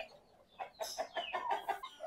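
A hen, a plump double-bodied laying bird offered for sale in Nellore, clucks in a series of short nasal calls that start quietly and grow louder and closer, with no talking.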